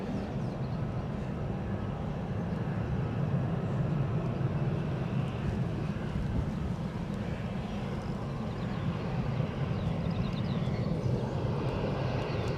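An EasyJet airliner inbound from Milan arrives at a windy Edinburgh Airport, a continuous low jet engine roar with wind rumble that stays steady and fairly distant throughout.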